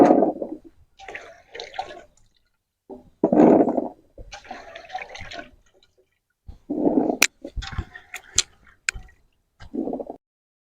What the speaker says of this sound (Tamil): வெங்காயத்தை நல்லா கழுவி எடுத்துக்கலாம்.